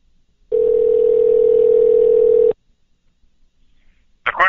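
A telephone dial tone sounds after a phone line goes dead during a call-in interview. It is a loud, steady, unbroken tone lasting about two seconds, then it cuts off and a short burst of noise follows.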